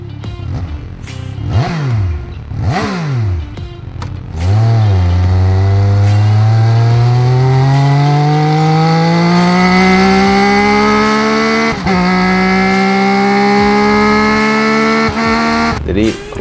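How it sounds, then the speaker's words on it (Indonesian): A three-cylinder hyper naked motorcycle engine blips a few times, then revs up in one long, smooth rising pull, loud and close, with a raspy multi-cylinder tone. "dari motor 3 cylinder ini bisa menghasilkan suara yang"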